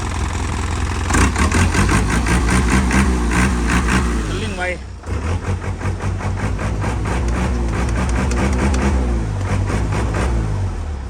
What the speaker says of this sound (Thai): เดี๋ยวจะสตาร์ทฟังเสียงเครื่อง เครื่องดีครับนิ่ม